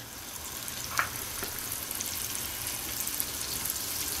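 A soft, steady sizzle of about fifty grams of butter in a hot pan, with a couple of faint clicks; quiet and continuous.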